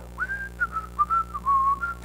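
A person whistles a short, wavering tune of several connected notes, clear and close with no talk over it.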